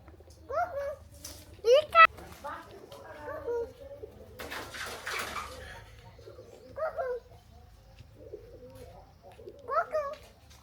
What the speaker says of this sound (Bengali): দেখছো কবুতর আম্মু?